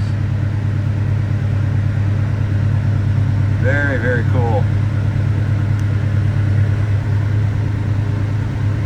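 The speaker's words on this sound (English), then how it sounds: "nice sounding truck" A 1980 Chevrolet C-10 short-bed pickup truck's engine idles with a steady, deep rumble throughout, while someone briefly speaks over it partway through.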